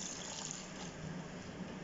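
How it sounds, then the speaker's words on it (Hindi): Water is poured into aloo mutton gosht curry cooking in a pot with potatoes, making a steady, soft gushing pour that stays faint and even throughout, with no talking. "तो अब हम इसमें डालेंगे पानी।"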